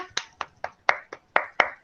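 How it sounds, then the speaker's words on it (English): Children in a nursery class clap their hands, about eight sharp separate claps in an uneven rhythm, close and fairly soft, with no talking over them. "Children, all clap hands to Saimira"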